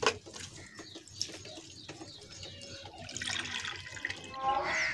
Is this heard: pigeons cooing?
yes